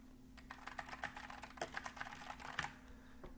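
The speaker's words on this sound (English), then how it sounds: "Mutant Mike, I love the sound of a mechanical keyboard too." Clicky keys clatter steadily on a mechanical keyboard, close up, a quick irregular run of keystrokes over a faint low hum.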